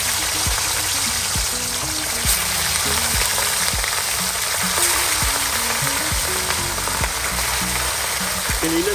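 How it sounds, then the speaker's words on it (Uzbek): Vobla fish fry in a pan, giving a steady, close hiss and sizzle with crackling pops that run without pause throughout. "mana balonlarni pishirish jarayoni boshlandi"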